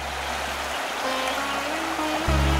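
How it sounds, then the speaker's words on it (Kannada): A forest stream murmurs close by in a continuous rushing wash of water, with a low rumble that briefly dips and then swells louder near the end. "ತೊರೆ ಜರಿಗಳ ಮಧುರವಾದ ಕಲರವ,"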